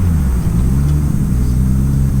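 A rear-wheel-drive 700 bhp Nissan Skyline R33 pulls hard, its engine a loud, deep, steady rumbling drone heard close from inside the car.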